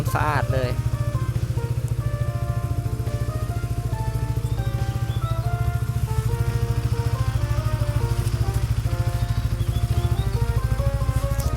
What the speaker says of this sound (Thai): เครื่องยนต์ดีมากนะครับ ผมพร้อมใช้เลยไม่มีดังไม่มีควันใดๆเลยนะฮะ